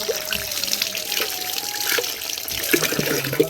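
Vegetables such as eggplant being rinsed under running water, a continuous close trickle and splash with scattered clinks and handling sounds, and a faint voice now and then.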